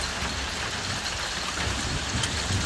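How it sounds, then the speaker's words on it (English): Light rain shower falling steadily during a western Kansas thunderstorm, a continuous soft hiss of drops on surfaces, even and close, with no voices. "Dropping us a nice little shower."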